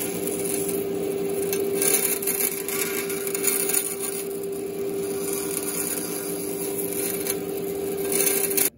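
Slow, careful rasping of a tool nibbling away at wooden bracing on a ukulele top, a continuous close scraping rub with a faint steady hum underneath.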